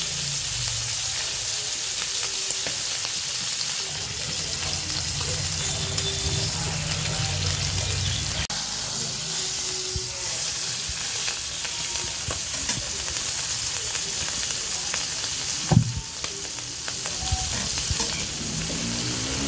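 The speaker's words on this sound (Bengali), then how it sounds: "তেলটা গরম হোক, ইলিশ মাছটা দিয়ে দিলাম" Hilsa fish frying in hot mustard oil crackles and sizzles continuously up close, with a few brief scrapes and one sharp clatter of the pan late on.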